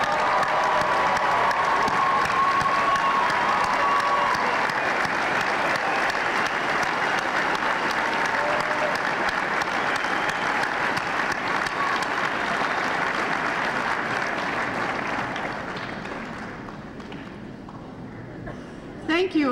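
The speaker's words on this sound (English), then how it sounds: "Would all the parents of today's graduates please stand so that we can honor you" A long round of applause at a spring college graduation ceremony, honoring graduates' parents, a steady crowd roar of clapping that fades near the end, with a faint voice coming in at the close.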